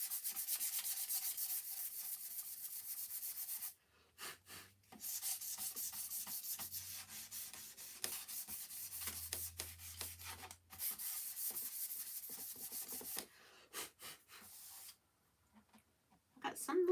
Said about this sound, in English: we'll just stick with this same sandpaper. It's a 400 grit. Kind of smooth out our paint.